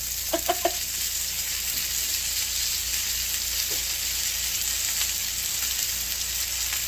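Steady sizzle of chicken frying in a pan fills the clip, with a few brief clucking chicken-like calls near the start and a faint one midway.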